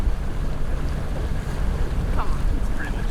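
Inflatable dinghy speeding across open water, with steady broadband rush of hull on water and wind buffeting the microphone throughout, close and loud, with no voices.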